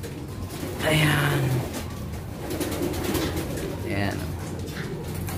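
Pet pigeons coo repeatedly at close range in a backyard loft, soft throaty calls continuing across the whole stretch while someone speaks briefly over them.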